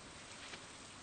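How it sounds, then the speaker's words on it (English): Rain falls softly and evenly in the Stardew Valley video game, a faint steady patter with no other sounds. "It's raining."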